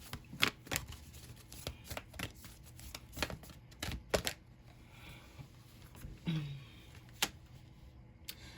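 Tarot cards being shuffled and drawn during a reading, a series of quiet close crisp flicks and riffling snaps in irregular rhythm, mostly alone with little else audible.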